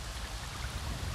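Steady rain hissing across the landscape in Avatar: Frontiers of Pandora, a soft, even wash of falling drops with a faint low rumble beneath, continuous and moderately quiet throughout.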